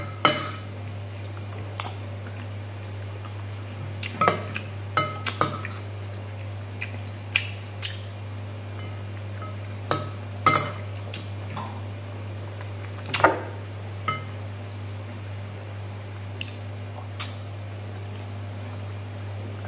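A metal spoon clinking and scraping against a plate while someone eats a pre-dawn suhoor meal of lalapan, sparse irregular taps over a steady low hum.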